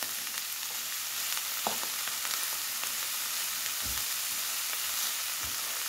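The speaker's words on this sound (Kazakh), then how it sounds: "Енді капустамыз қуырып алам." Cabbage frying in oil in a pan for a Kazakh pigodi filling, giving a steady, close hiss with a few brief stirring clatters and scrapes partway through. No one speaks.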